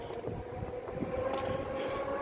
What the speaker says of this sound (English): That is the Port Jefferson diesel.